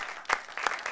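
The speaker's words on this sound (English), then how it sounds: "Let's clap for him." An audience claps for a speaker at a recovery stories talk, a brief burst of steady, fairly close applause lasting about a second.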